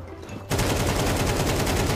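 Sustained automatic gunfire from Counter-Strike 2 gameplay bursts in loudly after a brief quiet moment, a dense rapid rattle of shots that continues without pause to the end.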